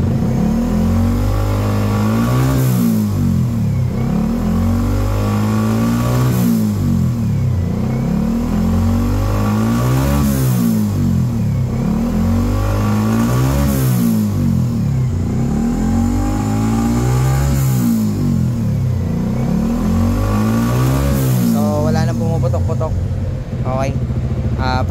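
Repeated engine revs from a motor whose exhaust pipe was replaced and whose gas mixture was adjusted after running too lean, rising and falling in about five even cycles over a steady loud idle.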